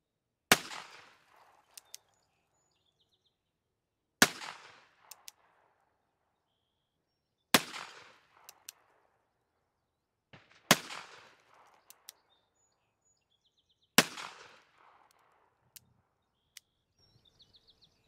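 Five sharp revolver shots from an Uberti Colt SAA and S&W Model 3 fired from the hip, each crack ringing out with a short echo tail, spaced about three seconds apart, loud and outdoors, with faint clinks between.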